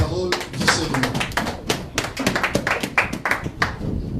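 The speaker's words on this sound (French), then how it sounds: "De toute façon, on acclame pour la parole du Seigneur." A church congregation at a Paris service claps in quick, uneven bursts of sharp hand strikes, fairly close, with faint voices and acclamations mixed in beneath the rhythm.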